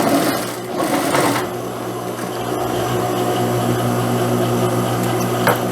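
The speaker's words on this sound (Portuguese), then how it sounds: "eu agora venho aqui e passo uma costura de pesponto rente" Sewing machine running steadily as it topstitches close along the fabric of a pocket on pantacourt trousers, a continuous close mechanical whir with no speech.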